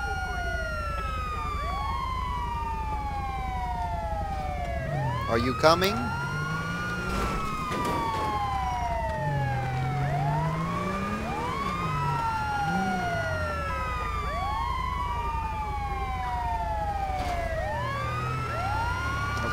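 An ambulance siren in GTA 5 wails and yelps continuously in sweeping cycles, loud and close over a low engine rumble, with someone speaking briefly.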